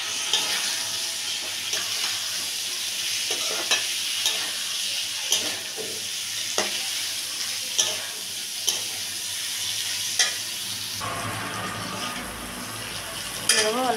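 Drumstick stems stir-fry in a pan with a constant close sizzle and regular scraping stirs every second or so, the hiss swelling louder near the end.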